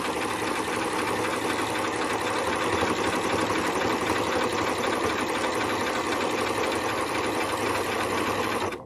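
A home sewing machine runs steadily through fabric while stitching red thread on a Christmas tree project, its motor whirring at an even, continuous pace close by for the whole stretch with no talk.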